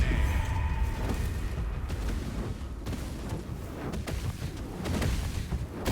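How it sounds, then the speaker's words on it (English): A big explosion in the Baldur's Gate 3 video game, with heavy booming rumbles and blasts running through the whole stretch, loud and dense, a burst of tonal effects near the start. "Let's wait a second for the next big explosion to happen."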